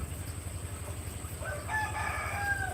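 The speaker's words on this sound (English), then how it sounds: "Hollering. Crowing. Or whatever you call it." A rooster crowing near a house porch, a faint drawn-out call rising partway through over a low steady rumbling background, with no talking.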